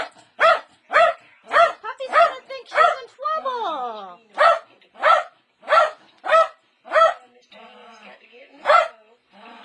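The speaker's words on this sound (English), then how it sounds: "Do you think Puppy's gonna like that bark?" A Lakeland Terrier barks in a steady series of sharp, loud barks close by, with a short whiny yelp in the middle and another near the end.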